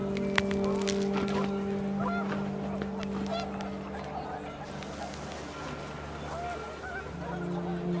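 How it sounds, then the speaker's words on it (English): Panicked geese honk in the video game What Remains of Edith Finch, scattered calls rising over rushing wind and a low ambient hum, moderately close and fairly quiet. "The wind picked up, and panicked geese"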